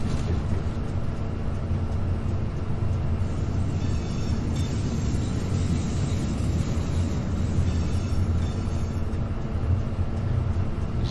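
A train rolls along the track in Train Simulator 2021, a steady low rumble and continuous rail noise with no pauses, close and constant throughout.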